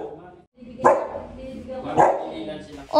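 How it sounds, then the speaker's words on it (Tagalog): A dog barks three times at about one-second intervals, each bark loud and close, with a voice audible between the barks. "At sobrang tuwa nga po niya, may pagtahol-tahol na rin siya."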